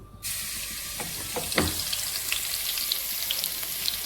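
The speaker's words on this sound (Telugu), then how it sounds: "దీన్ని ఇప్పుడు మనం తాలింపులు వేసేసుకుందాం" Tempering spices crackle and sizzle in hot oil for a ridge gourd curry, a dense continuous frying hiss with a few sharper pops and a brief stir near the start.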